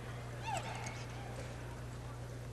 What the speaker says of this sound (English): Riding this mare nice and true.